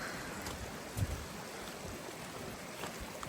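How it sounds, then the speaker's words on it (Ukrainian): Steady rushing roar of a waterfall in Ukraine, heard from a path as it is approached, a broadband continuous wash of falling water, moderately loud and unbroken, with no talk over it. "яка до нього дорога вже чутно, як він шумить."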